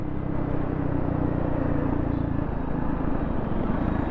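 A Triumph Speed 400 roadster motorcycle cruises at high speed, its engine a continuous loud droning roar mixed with rushing wind, steady and close throughout.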